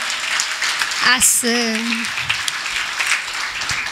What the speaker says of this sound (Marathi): यांच्याकरता गोड अशा टाळ्या होऊन जाऊ दे